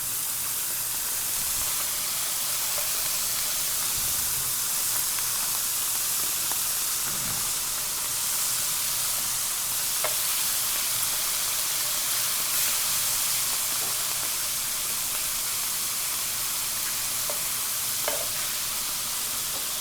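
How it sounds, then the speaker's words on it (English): Country ham frying in lard, a continuous close crackling sizzle with occasional faint pops and spits, steady and even throughout with no talking. "So just throw it right down here. Fry it up in this lard."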